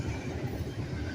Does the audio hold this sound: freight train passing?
yes